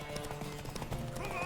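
Horse hooves clip-clop in The Witcher 3 video game, a steady run of hoofbeats close by, mixed with game music and voices.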